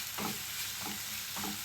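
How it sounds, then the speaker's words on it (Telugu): Onions fry with ginger garlic paste for mutton paya curry, a constant close hiss of sizzling oil with three soft rhythmic stirring sweeps, fairly quiet and without speech. "ఇది మొత్తం కలర్ మారేంత వరకు వేగించుకోవాలండి"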